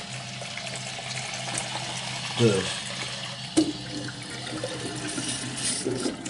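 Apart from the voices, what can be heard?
filling water from a tap for coffee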